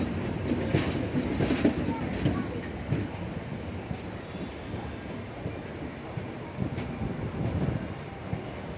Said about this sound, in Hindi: ट्रेन अपनी कर्व लेते हुए एंटर कर रही है विजयवाड़ा जंक्शन रेलवे स्टेशन